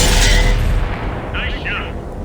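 Tank main gun firing in World of Tanks from the Foch 155 tank destroyer: a single heavy boom with a sharp opening blast that rolls off into a rumbling tail, loud and close, with a short metallic ring following.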